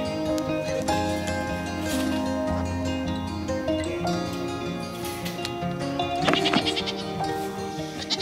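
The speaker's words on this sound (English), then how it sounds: "Sassy goat, right there." Goat bleating on a farm, several wavering bleats in a row, close and moderately loud, with a louder burst of cries near the end and faint background sounds.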